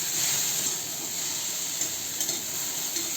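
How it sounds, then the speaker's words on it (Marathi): Okra sizzles steadily while stir-fried in an uncovered pan, a continuous close frying hiss with faint scrapes of stirring and no voices. "भेंडी अशीच परतून शिजवून घ्यायची."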